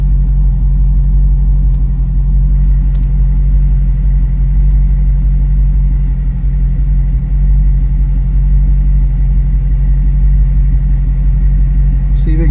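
A 1995 Dodge Stealth that sat for years is driven, giving a loud, constant low engine and road rumble heard up close from inside or near the car, steady throughout.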